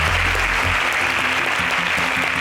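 Studio audience applause for eliminated contestants on a national agricultural science quiz show, loud continuous clapping with low musical tones beneath it.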